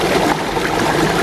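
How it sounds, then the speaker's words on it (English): Canal water pouring through an old trapdoor and dropping about 16 to 20 feet into the River Tib, a loud, continuous rushing splash with no talking. "that water is basically dropping down there now, about 16-20 foot, like I've said, down into the River Tib."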